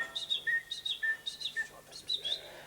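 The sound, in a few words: man imitating bird calls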